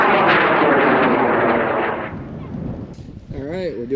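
An amateur high-power rocket with an H219 motor launches with a loud, roaring rush that fades over about two seconds, followed by distant cheering and voices.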